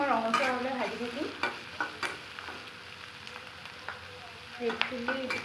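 Two chopped onions with two bay leaves sizzle and are stirred in a pan until reddish brown, a steady frying hiss broken by spoon scrapes and clinks, with a voice briefly heard.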